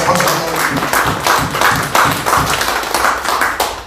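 A church congregation claps hands together in a steady, strong rhythm during a live worship service, loud and close with no talk over it.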